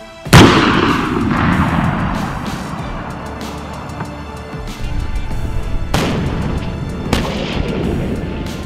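Heavy self-propelled artillery gun firing, a loud sharp blast with a long rumbling decay, followed by two more booms later on, no talking.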